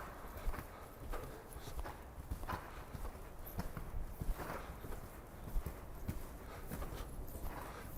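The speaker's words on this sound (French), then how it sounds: "on va commencer à galoper en guidant son cheval dans ce carré avec une seule main." A ridden horse's hooves thud rhythmically on soft ground at a quick, loping gallop, fairly faint, with some ambient noise around them.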